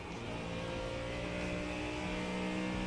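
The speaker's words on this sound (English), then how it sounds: "This is not even the engine sound that I'm looking for." A race car engine in the iRacing sim, a GTP prototype rather than the Cadillac, drones steadily and loud throughout, with a sustained tonal hum and no voices.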